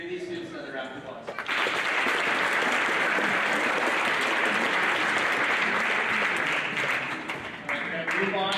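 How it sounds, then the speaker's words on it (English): Loud sustained audience applause at a school academic awards ceremony, rising after a brief opening and holding steady for several seconds before tapering slightly, with a voice briefly heard at the start. "Give these students another round of applause."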